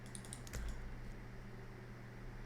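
A few quick computer keyboard and mouse clicks sound close and soft in a quiet room while edges are selected in 3D modeling software, with a brief burst of clicks near the start and then a low steady hum.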